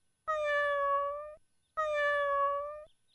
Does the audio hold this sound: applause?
no